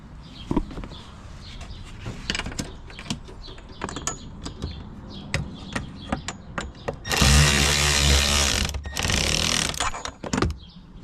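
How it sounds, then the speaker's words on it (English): A powered driver tightens screws on a lower door panel of a 2022 CanAm Maverick X3 XRS MAX Turbo RR, a loud buzzing whir of about two seconds amid close clicks and handling taps. "Time to tighten the screws."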